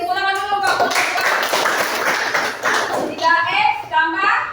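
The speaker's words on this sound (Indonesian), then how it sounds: "tepuk tangan dulu" A short burst of hand clapping in a classroom lesson, sandwiched between voices speaking before and after, moderately loud and close.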